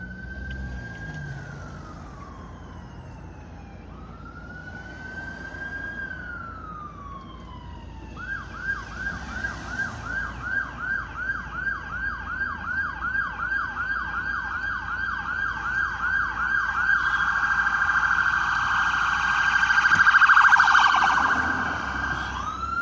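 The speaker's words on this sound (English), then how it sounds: "An ambulance." An ambulance siren passes on a road between Kilcullen and Newbridge, starting with slow wailing sweeps, then switching to a rapid yelp that grows steadily louder as it approaches and peaks close by before easing off, with traffic rumble underneath.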